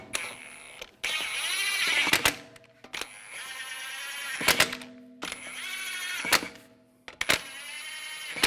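Lug bolts threaded onto the wheel hub of a 2004-2010 BMW X3 during a front CV axle job, heard as a series of close, whirring mechanical bursts separated by short pauses.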